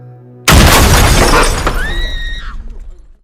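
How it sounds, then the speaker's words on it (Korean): A man falls onto a car with a sudden loud crash and shattering glass, the burst of breaking debris ringing out and then tapering off with a high metallic squeal fading at the end. "남자는 차 위에 떨어졌고"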